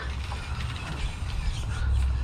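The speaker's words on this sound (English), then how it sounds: "It actually crawls pretty decently with these tires" FMS Smasher V2 RC monster truck on Chevron tires crawling over terrain, giving a busy mechanical whir of gears and drivetrain with small clicks, close and fairly loud throughout the short stretch, no talk.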